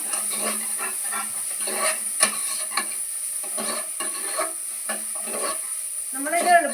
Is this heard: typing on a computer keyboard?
no